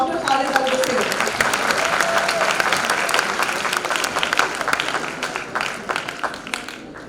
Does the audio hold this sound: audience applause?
yes